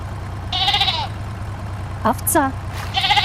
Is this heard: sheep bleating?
yes